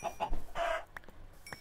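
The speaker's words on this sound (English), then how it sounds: "Chicken farm." Chickens cluck in a Minecraft chicken farm, several short clucks and squawks coming in quick bursts, fairly close and clear, with a brief louder squawk in the middle and no talking.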